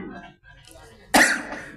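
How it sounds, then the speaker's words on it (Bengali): A man coughs once, sharp and loud, near the close, following a brief stretch of quiet background murmur in a humorous Bengali sermon setting. "কাশি লাগছে কেন?"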